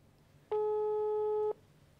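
A telephone ringback tone heard while placing a call, one steady electronic tone lasting about a second and standing clearly above a quiet background.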